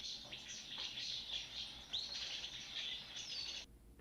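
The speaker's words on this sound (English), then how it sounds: "The oral bird noises are permeating the scene." Bird calls from the 1963 Hitchcock film The Birds, set in a pet shop: a dense, steady layer of chirps and twittering from many birds, fairly faint, continuing without break until it cuts off near the end.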